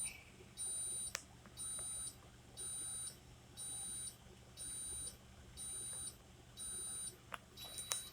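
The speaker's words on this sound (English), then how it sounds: "while the leveling system is working, it's beeping steadily" The automatic leveling system of a 2021 Seneca 37L motorhome beeps in a steady pulse, about one tone per second, each beep a clear high chirp, heard quietly with small clicks between.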